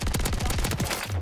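Rapid blasts from the Haymaker shotgun in Call of Duty: Modern Warfare III, a fast burst of about eight loud, close shots in quick succession with no talking.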